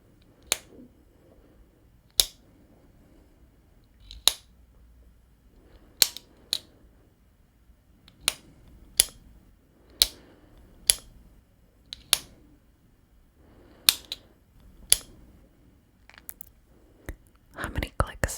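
A pen clicks sharply about a dozen times at uneven intervals, crisp close taps over near silence, with soft whispering in between.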